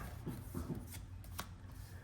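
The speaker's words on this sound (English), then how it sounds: "we'll put Invocation back into the deck, shuffle the deck up" Playing cards shuffled during a Yu-Gi-Oh card game session, a couple of soft riffling bursts close by over a steady low background hum, with no talking.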